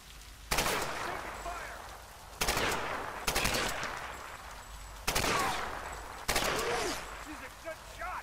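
Enemy gunfire in Tomb Raider at the Solarii Fortress: five separate bursts of rapid shots, each sharp onset trailing off, spaced a second or two apart, with faint speech between them.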